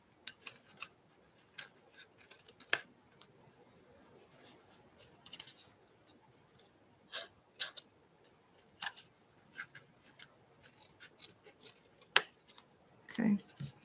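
Scissors snipping and trimming paper during a craft session, a scattered run of short, crisp cuts at low level across a quiet room, with a louder rustle near the end.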